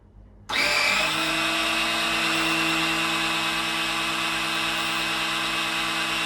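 Small electric oil pump drawing petrol out of a 1997 Harley-Davidson Heritage Classic fuel tank through a hose, starting abruptly with a steady, loud motor whine and hum that runs on unchanged.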